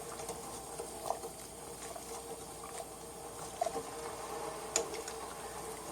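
Sikhye, a Korean sweet rice drink with sugar added, simmering in a pot, giving a steady low bubbling patter with occasional soft pops and clinks, no voices.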